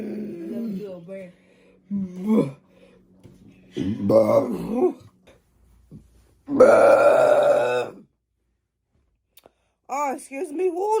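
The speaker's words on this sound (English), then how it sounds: "that was a fire burp" Several loud, drawn-out burps in a row from people taking turns, separated by short pauses, with one especially long, forceful belch in the middle and a few shorter ones around it.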